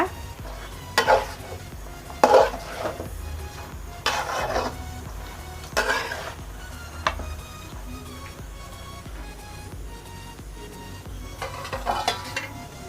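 A spoon scrapes and stirs masala chicken fry in a pan at a steady pace, with a few louder clanks against the metal over a soft background sizzle.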